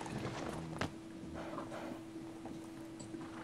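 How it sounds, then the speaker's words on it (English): Battle horse hooves clip-clop at a steady walking pace in Life is Feudal, with a faint, fairly distant sound under a low steady hum. "It's a battle horse or something."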